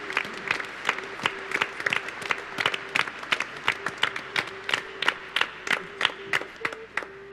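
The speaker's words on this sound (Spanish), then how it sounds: "Le brindamos un fuerte y caluroso aplauso de bienvenida." A church congregation at Mass claps in welcome: distinct, fairly sparse and rhythmic hand claps from a modest group, steady and close for several seconds, with a faint sustained tone running beneath and no talking.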